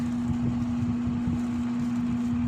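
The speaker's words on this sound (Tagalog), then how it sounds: "Yan, gumagana na ang aircon." An air conditioner runs with a steady, low mechanical hum, a constant tone droning on evenly nearby, with no voices.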